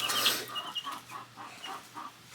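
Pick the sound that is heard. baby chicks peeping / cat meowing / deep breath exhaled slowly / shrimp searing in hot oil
baby chicks peeping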